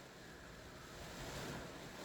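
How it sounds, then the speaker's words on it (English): Heavy rain pours onto a car in a steady, dense hiss that swells slightly and is heard from inside without any talking. "There's nothing better than being in a car when it's pouring with rain."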